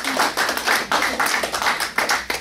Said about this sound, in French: Applaudissez pour la gloire de Dieu.